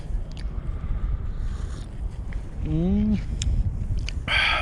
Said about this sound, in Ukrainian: Зато вітер піднявся.